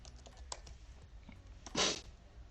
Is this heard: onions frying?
no